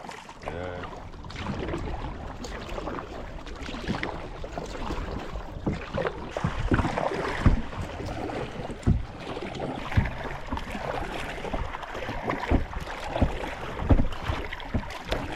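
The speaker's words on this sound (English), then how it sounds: "It's a bit windy." Wind gusting across a river while paddling a canoe in Africa under cloud cover, a steady rushing buffet on the microphone mixed with water splashes and paddle knocks, fairly loud and uneven.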